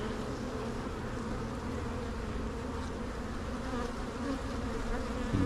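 Dense, steady buzzing of honey bees inside an open hive during a frame inspection, a continuous close swarm drone holding evenly throughout.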